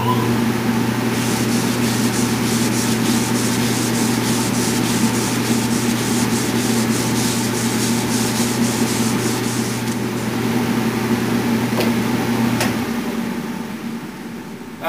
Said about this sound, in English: I finish up with sanding with a 320 grit on a felt block